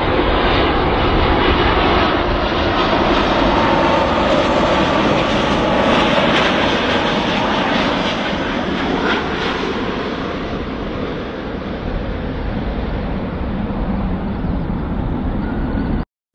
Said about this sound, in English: The aircraft is powered by two Rolls-Royce Trent 700 turbofan engines